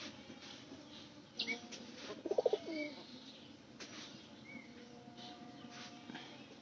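Pigeons in a pen, faint soft coos and brief flutters over a low background hum, with a short cluster of calls near the middle.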